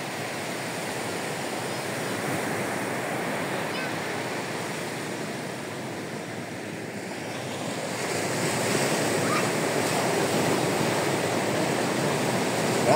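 Ocean waves and surf roll in steadily at Baler beach, a continuous broad wash of breaking water with wind, growing slightly louder near the end.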